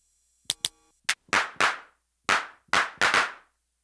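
Synthesized clap sounds from an IK UNO Drum machine trigger repeatedly in an uneven pattern, some short and tight, others longer and buzzier with a layered smack, clear and isolated.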